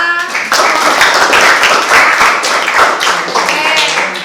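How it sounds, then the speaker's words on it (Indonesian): A room of workshop participants applauding together, a dense, sustained patter of many hands clapping close by that swells after a brief start and holds steady to the end. "Sebelumnya aplaus dulu untuk semua."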